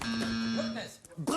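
A steady electronic buzzer hums on a French game show set, a sustained tone lasting most of a second under lively talking voices.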